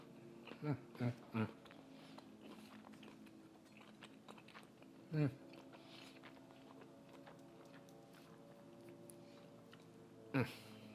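Someone chews a bite of tender, brined apple-smoked pork chop cooked on a Kamado Joe Jr grill, with a few sharp close bites and crunches at the start, another in the middle and one near the end, amid faint background noise.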